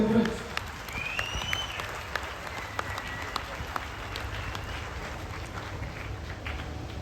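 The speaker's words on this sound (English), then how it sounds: "Warm round of applause to other bank, my dear friends." An audience applauds at a bank officers' triennial conference in Visakhapatnam, steady sustained clapping from a hall crowd with faint voices underneath.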